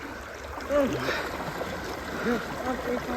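Cold water of the Ganges flows past, a soft continuous rush and gurgle with occasional splashes, while voices speak faintly over it.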